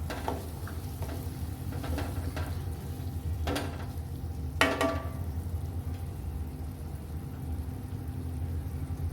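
Boiled tuvar dal stirred into sizzling curry masala in a pan, with a faint low sizzle and a couple of sharp spoon-on-pan clinks.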